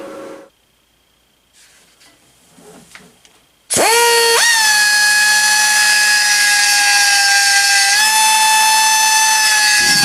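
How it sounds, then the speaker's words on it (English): A power drill spins up abruptly and runs loud and steady while center drilling the back of a steel plate for a custom BMX e-bike, its whine shifting slightly in pitch partway through, after a few quiet handling sounds. "Now I will center tap the back of this, that way the whole thing is centered, the whole assembly."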